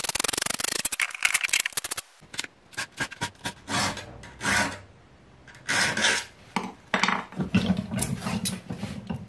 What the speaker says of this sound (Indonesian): sekarang kita asah kembali untuk nggak hanya untuk ngikis kalau-kalau ada permukaan yang rusak oleh ujung ini